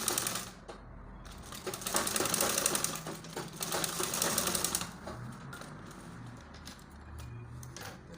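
A sewing machine stitches a turtleneck collar onto the front fabric of a baby girl's gathered gown, running in rapid bursts with brief pauses, close and fairly loud with a steady mechanical chatter.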